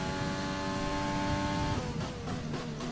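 An F1 race car engine in the video game F1 2020, set at the Bahrain Grand Prix, drones steadily at high revs, then shifts and drops in pitch partway through, constant and close with no talk.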